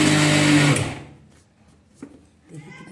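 A mixer grinder pulverising sesame seeds whirs loudly and densely for about a second, then cuts off, leaving faint clicks and soft handling noises.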